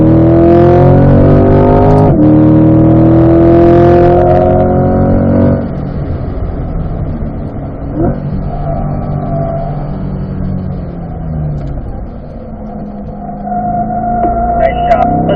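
A Corvette C8 on a race track with its engine revving up under light throttle and then dropping through a downshift under braking. The engine note is loud and close, rising and falling, with a voice talking over parts of it.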